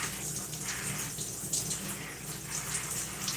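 Water running steadily onto dense hair as shampoo is rinsed out, a continuous soft splashing gush from a shower or tap, fairly quiet and even.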